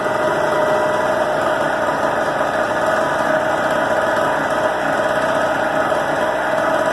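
A Harbor Freight Tailgator portable generator engine runs at a constant, buzzing drone with a steady mechanical whine, close and unchanging throughout.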